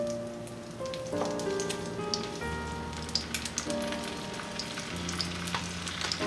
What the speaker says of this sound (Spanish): ya aquí tenemos ya la mantequilla derretida, son 4 cucharadas de mantequilla que he usado y vamos a poner las chuletas